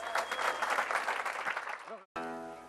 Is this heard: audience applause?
yes